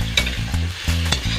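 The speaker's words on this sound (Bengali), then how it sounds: "এই দেখুন টমেটো আর পেঁয়াজ একসাথে দুটোকে নাড়া হচ্ছে।" Tomato and onion stirred together in a frying pan: steady close sizzle with repeated scraping strokes of a utensil against the pan, no voices.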